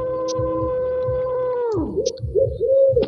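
Bird calls in the video game Pocong Hunter, a few sharp chirps over steady tonal game music with a low rhythmic beat, ending in a sweeping pitch drop and warbling tones.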